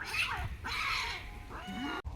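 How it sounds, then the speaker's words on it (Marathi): Fighting cats yowl and caterwaul in drawn-out, rising wails, several aggressive cries in quick succession, close and fairly loud. "मांजरांच्या भांडणाचा निकाल लावून येतो"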